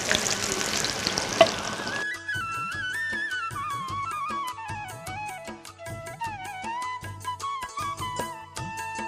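Vegetables for an eggplant dish frying in a pan: a broad, hissing sizzle that is loud and clear at first, then carries on underneath music for the rest of the clip.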